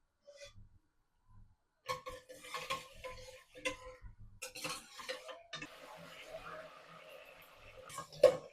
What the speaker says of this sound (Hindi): इस मसाले को थोड़ा सा फ्राई करेंगे।